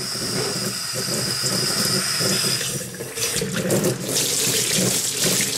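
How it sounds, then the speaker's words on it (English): Warm water runs steadily from a tap into a cluttered household sink, a continuous close splashing hiss with slight shifts in flow and no talking. "get the warm water going"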